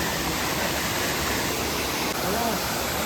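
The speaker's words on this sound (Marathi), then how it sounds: "धबधबा काय भारी आहे." A hillside waterfall in the Ransai hills at night roars as a loud, constant rush of falling water, close and steady throughout, with a brief muffled voice beneath it.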